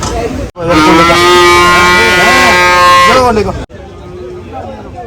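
A water buffalo at a cattle market gives one long, loud, drawn-out bellowing moo lasting about three seconds, with market background noise before and after.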